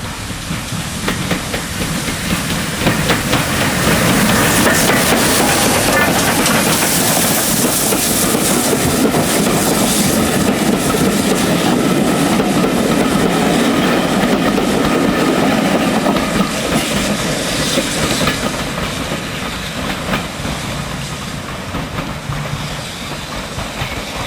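A GWR Dukedog 4-4-0 steam locomotive, number 9017 Earl of Berkeley, roars past, loud and continuous, its hiss and rumble filling the air in a dense, echoing wash as it runs into Sharpthorne Tunnel on the Bluebell Railway.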